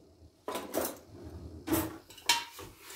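Food is stirred in a cooking pot, probably a pressure cooker with oil. A spoon scrapes and clanks against the metal in a few irregular bursts, fairly close, with no talk.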